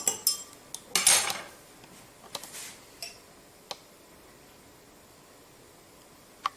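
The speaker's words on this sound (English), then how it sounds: "Let me stir it once." A spoon stirs a solution in a glass container during a chemistry class, giving a quick burst of clinks and scrapes at the start, then sparse single taps and ticks in a quiet room.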